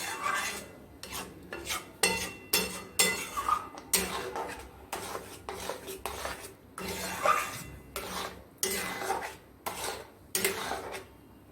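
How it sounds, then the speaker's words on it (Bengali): Milk with chhena and khoya is stirred steadily in a pan, and a spoon scrapes the bottom in rhythmic bursts roughly every half second, close and moderately soft. "এটা যেহেতু ছানা আছে, খোয়া আছে, সমানে নাড়তে হবে বন্ধুরা।"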